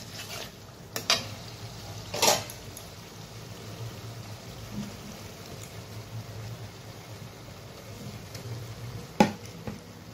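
Squash pieces drop into spices frying in a pan, making a soft, low sizzle punctuated by a few sharp clatters and scrapes of a spoon against the pan.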